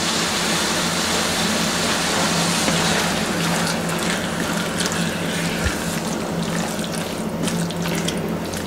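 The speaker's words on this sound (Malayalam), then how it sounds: "പരിപ്പ് ചേർത്തിട്ടൊന്ന് മിക്സ് ചെയ്തതിന് ശേഷം അതിലോട്ട് ആവശ്യത്തിന് വെള്ളം കൂടി നമുക്ക് ചേർത്ത് കൊടുക്കാം" Water is poured steadily into a pot of dal and spinach curry, a continuous close hiss and splash with no talking.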